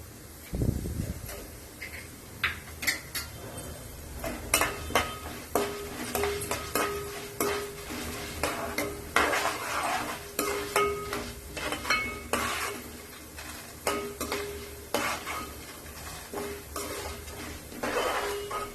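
Cumin seeds are stirred in a pan while making bitter gourd spice powder, with a steady run of scraping, rattling strokes and light clinks of the spoon against the metal, close and fairly loud, without talking.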